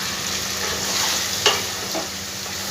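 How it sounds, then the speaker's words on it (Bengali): Potatoes and spices being stir-fried together in a pan, a steady loud sizzle running throughout with a brief scrape of the spatula near the middle and another softer stir later, no voices. "ভালো করে আলুর সাথে মশলাটা ভাজবো।"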